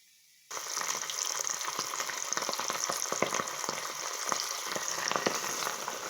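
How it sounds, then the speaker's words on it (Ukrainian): Fish fries in a pan of hot oil, starting abruptly with a dense, steady sizzle and crackle and scattered sharper pops throughout, close and continuous with no talking. "І знову смажимо нашу рибку."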